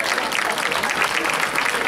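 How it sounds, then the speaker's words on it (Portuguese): Dense, continuous applause from the audience at a folklore festival in Santa Eulália, loud and steady for the whole stretch. "uma salva de palmas"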